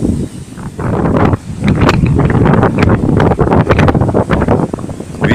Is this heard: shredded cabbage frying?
no